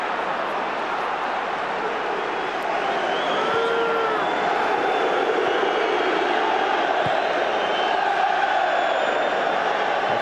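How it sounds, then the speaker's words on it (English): Celtic supporters cheer at a Rangers v Celtic football match, a steady, dense stadium roar with rising surges filling the whole stretch, with faint whistles and voices in the crowd. "Lovely pass, winning a cheer from the Celtic fans at the moment."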